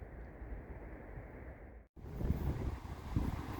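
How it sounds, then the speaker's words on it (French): Wind buffeting a microphone on a hike down old stone steps in Cahors, France, a rough low rumble that drops out briefly midway, then returns stronger and gustier. "désolé s'il y a un peu de vent"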